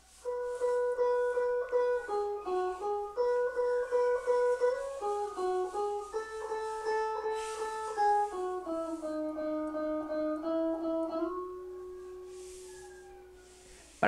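A clean, single-line guitar solo melody of plucked notes steps up and down at a moderate pace, ending on a long sustained tone that slowly fades.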